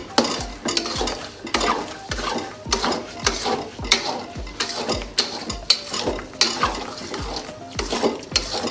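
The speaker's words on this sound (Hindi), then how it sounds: "आपने स्पून जो है वो बिल्कुल हिलाते रहना," A spoon stirs semolina halwa in a pan with rhythmic scraping strokes, roughly two per second, over a light sizzle, close and clear with no talking.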